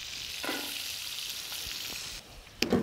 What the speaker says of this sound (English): Now that butter's melted a little bit, I'm gonna chuck in just a little bit of the shallots.